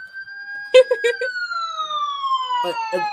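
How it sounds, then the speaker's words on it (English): A wailing siren sweeps steadily downward in pitch, with short bursts of voices cutting in over it. "Get the sirens out."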